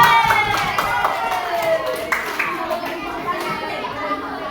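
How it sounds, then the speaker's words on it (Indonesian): Children in an elementary school classroom clap their hands together, a lively burst that thins out while young voices chatter and call over it. "kita kasih tepuk tangan kepada Ilham."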